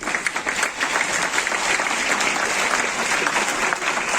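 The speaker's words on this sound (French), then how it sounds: "Vous pouvez l'acclamer" An audience at a literary meeting applauds an author, a dense continuous clapping that stays loud and even throughout with no pause.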